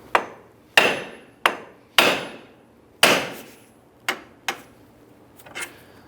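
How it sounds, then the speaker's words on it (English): A hammer strikes the steel steering knuckle of a 2002-2007 Jeep Liberty eight times at uneven intervals, each blow a sharp, ringing clank that decays quickly, with nothing else in between. "use our hammer, strike the edge of the knuckle here"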